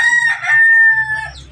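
A Labuyo rooster crows once, a loud, drawn-out cock-a-doodle-doo lasting over a second, close by, with faint low farmyard rumble underneath.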